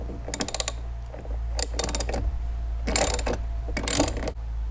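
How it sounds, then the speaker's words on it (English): A 1/2-inch ratchet loosening the steering wheel bolt on a C7 Corvette Z06, heard as several close, rapid clicking bursts separated by short pauses. "we can just take our 1/2-inch ratchet, which we have right here, and we can loosen that bolt up all the way"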